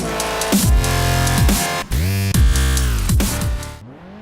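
Formula Abarth open-wheel race car engines at the Nürburgring in Assetto Corsa: loud, close revving with rising and falling pitch as the car shifts gears repeatedly, a few short drops between pulls, no talking.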